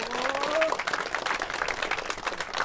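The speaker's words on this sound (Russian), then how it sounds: "Им большие-большие тоже аплодисменты." Applause from a crowd gathered at a 1:8 scale off-road RC car national championship track in St. Petersburg, a steady mid-level patter of many hands lasting throughout, with a brief faint tone and some voices mixed in.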